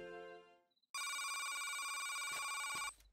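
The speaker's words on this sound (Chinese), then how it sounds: "我去接个电话。" A telephone rings in a children's cartoon: a bright, loud electronic ring sounds steadily for about two seconds after a short pause, alone with no talk.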